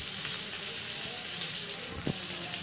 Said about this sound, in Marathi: आता आपण हे मधोमध असं उभं करून ठेवलं होतं फ्राय करण्यासाठी.